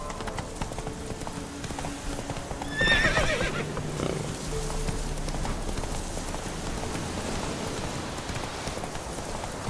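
In The Witcher 3: Wild Hunt a horse gallops with a steady clip-clop of hooves. A sharp whinny cuts in near the start, and the hoofbeats carry on at a moderate level over soft background ambience.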